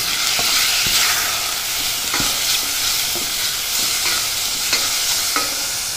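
Meat searing and caramelizing in a hot pan, a steady close sizzle with scattered clicks of stirring and scraping throughout, no voices.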